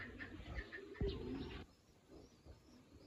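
A pigeon coos in a few soft, low calls, with a brief sharp knock partway through, under a quiet room background.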